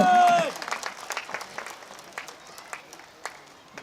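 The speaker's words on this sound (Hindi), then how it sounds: "तो जोरदार तालियां होनी चाहिए" Audience applause at a community celebration in Surat, with a brief loud burst at the start, then scattered claps that thin out and fade toward the end.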